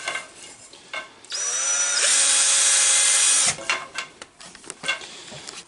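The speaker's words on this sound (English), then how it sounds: "Drill through." A power drill whines loudly up close as it bores through wood for about two seconds, then cuts off, leaving small handling noises.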